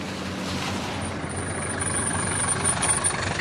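A taxi engine runs steadily nearby with a low, continuous rumble like a truck or bus idling, holding an even loudness for a few seconds with no speech.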